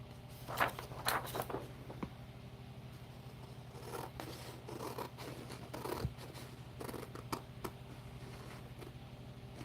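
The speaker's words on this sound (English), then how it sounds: "And then we're going to cut it right here." Scissors cut through paper for an altered book in a series of close, crisp snips and rustles, irregular and fairly quiet, with no talking.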